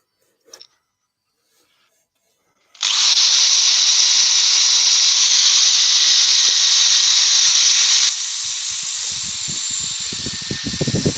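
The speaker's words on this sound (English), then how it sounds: "we will finish off the sanding with 240" A steady, loud abrasive hiss of power sanding with 240-grit sandpaper starts abruptly after a brief tap, runs continuously, then shifts slightly lower with faint thumps near the end.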